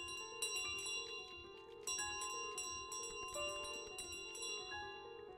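Bells ringing in Untitled Goose Game, with many overlapping metallic tones chiming in repeated strokes over a steady background hum, fairly loud and without talk.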